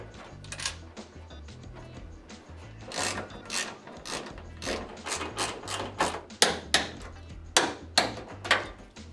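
Ratchet tightening bolts on a car oil pan, heard as repeated bursts of quick metallic clicking with short pauses between strokes, close and fairly loud with no talk.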